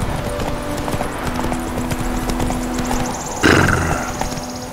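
Horse hooves clip-clop at a steady walking pace in The Witcher 3, close and fairly loud over faint game ambience, ending in a brief louder burst near the end.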